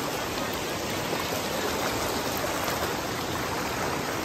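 Steady, loud rush of river water flowing into a deep natural swimming hole, a continuous broadband roar with no voices.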